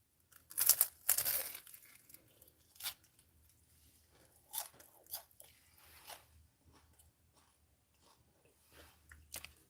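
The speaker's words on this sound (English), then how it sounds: "Listen to the crunch." Bites into fried meat lumpia give several sharp crunches and crinkly crackles near the mic, loudest at first, then quieter chewing crunches spread through the rest, with no talking.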